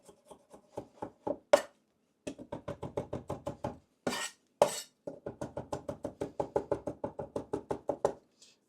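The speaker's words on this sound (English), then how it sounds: "So the other method for making a garlic puree is that you start by mincing it." A knife minces garlic on a cutting board in a home kitchen, tapping out quick, steady rhythmic chops in close, crisp bursts. A couple of louder scraping strokes break up the sequence, with no voices.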